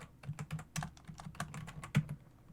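Fast, faint keystrokes on a computer keyboard tap out an irregular run of clicks, close and quiet, with no speech over them.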